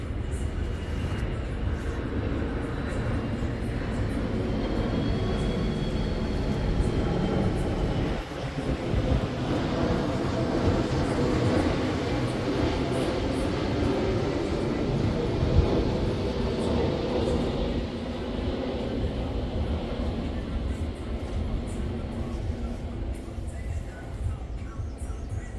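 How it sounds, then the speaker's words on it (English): A broad, steady roar of an airplane overhead fills the scene, rising slightly in the middle and staying loud and sustained throughout. "Here comes a plane"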